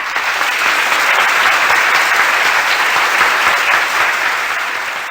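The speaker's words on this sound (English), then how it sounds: "I think that deserves a round of applause" A quiz show studio audience applauds loudly and continuously, the dense clapping holding steady before easing off slightly at the end.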